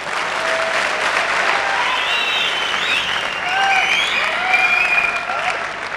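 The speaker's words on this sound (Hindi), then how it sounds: "लेकिन इतनी तालियां मत बजाइए शादी के बाद" Sustained applause from a seminar audience at a network-marketing motivational talk, dense steady clapping filling the whole stretch at even loudness, with faint whistles and voices mixed into the crowd.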